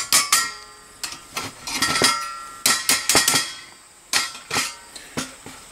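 A metal ash pan tapped snugly into place at the bottom of a small firebox camp stove, giving a series of close, sharp metallic clinks and knocks in irregular clusters.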